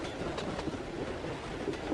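A passenger train rolls along the rails toward Dover, with a steady, continuous rumble and faint rhythmic clatter from the wheels, even and unbroken throughout.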